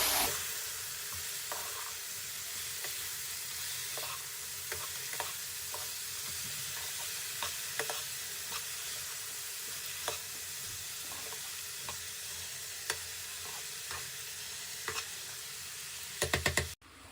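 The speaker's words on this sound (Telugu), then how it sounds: "ఇప్పుడు ఇవన్నీ బాగా కలుపుకోండి తాలింపులో" Cabbage and moong dal are stirred in a sizzling tempering, a steady close frying hiss broken by soft periodic spoon scrapes and taps, ending with a quick burst of louder clatter; no speech.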